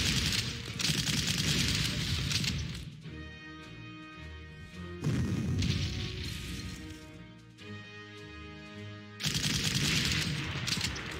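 An anti-tank Pak gun fires in the World War II strategy game Panzer Corps, heard as three long loud crashing volleys a few seconds apart with a ringing tone between them.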